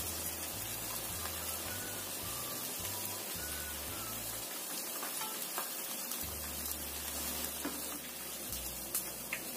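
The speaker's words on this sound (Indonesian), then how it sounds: "Kita goreng yang selanjutnya." Tofu frying in hot oil, a steady loud sizzle and crackle filling the whole stretch with no talk, occasional faint clinks over the constant hiss.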